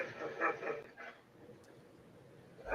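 A dog barks a few times in a quick burst near the start, then falls quiet before one more short bark at the end, moderately loud indoors.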